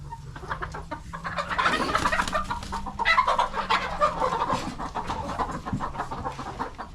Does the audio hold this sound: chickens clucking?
yes